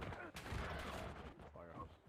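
Gunfire crackles in a first-person shooter video game, a fast burst of shots heard under the player's excited talking.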